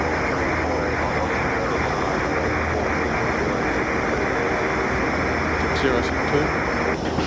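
A Grumman Mallard seaplane's engines roar steadily and loud during its takeoff run, a dense continuous drone, with a brief radio voice over the noise near the end.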